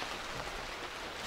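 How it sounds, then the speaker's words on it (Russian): Steady rain falling from a grey cloud outdoors, a dense even hiss of drops on surfaces, constant and moderately loud with no voices. "Дождь идет, ребята."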